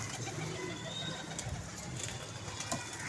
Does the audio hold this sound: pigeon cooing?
yes